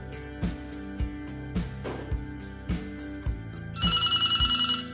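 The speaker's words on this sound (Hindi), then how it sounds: "ये दूसरा जो टेलीफोन ST2 पे जोड़ा हुआ है उसमें मेरी रिंग चली गई है" A telephone rings nearby in a repeating electronic tone, preceded by a series of low beeps and clicks, with no one speaking.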